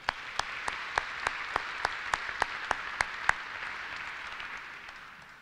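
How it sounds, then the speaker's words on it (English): An audience at a steel mill groundbreaking ceremony claps together in a steady, fairly distant round of applause, with a few louder individual claps standing out above the wash of hands. "Can we give every one of those another round of applause?"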